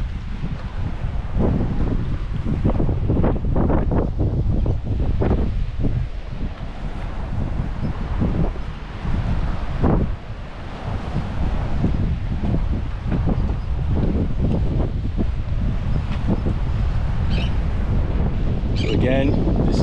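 Strong gusting wind buffets the microphone in a constant low roar on the Juno Beach fishing pier on an overcast, slightly rainy day, with bits of rustle and a voice faintly underneath.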